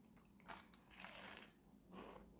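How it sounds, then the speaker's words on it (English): Someone bites into a Freia Sjokoklem chocolate wafer biscuit and chews, with a few crisp crunches close to the microphone, quiet and dry, no talking. "The crunch. Can you hear the crunch?"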